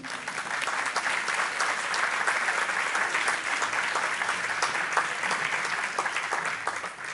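A public audience at an interview with a Cuban writer applauds a woman named Lucía, a sustained, dense roar of many hands clapping for about seven seconds, steady and fairly close with no speech on top.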